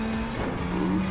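A car crashes into a wall during a Gran Turismo 7 race, with a steady engine tone giving way to tire skidding and a rough scraping impact, loud and close.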